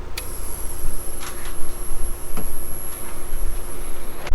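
A Vevor ozone generator runs inside a car during an amateur air-conditioning fungus treatment. A steady high electronic whine and a low hum carry on throughout, with a few faint clicks and no speech.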